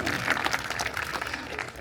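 A crowd at a high school marching band event gives a round of applause, a short, fairly faint burst of clapping that stays even throughout.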